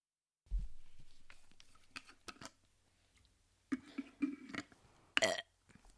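A person burps after drinking, with several short, close belches spread out, the last one loud and sharp, plus a few small clicks and gulps between them.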